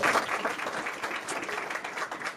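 An audience at a church sermon breaks into dense, sustained applause, a steady wash of many hands clapping at moderate loudness.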